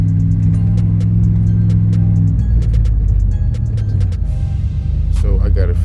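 A car engine revving loud and close while starved of fuel, with a suspected fuel pressure regulator fault; the steady roar shifts lower about midway and surges again near the end.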